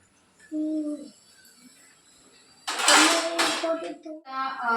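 Spinach is rinsed in a kitchen, with water splashing loudly for the last two seconds. A short stretch of talk and a quiet pause come before it.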